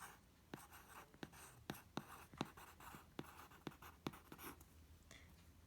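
A pen writes a title across paper, a quiet run of brisk scratchy strokes and taps in an irregular rhythm, close up in a still room.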